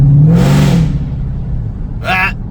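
Supercharged Ford SVT Cobra, built as a four-door, revving hard with a loud exhaust: one deep rising-and-falling rev burst up close, followed by a short higher-pitched rasp.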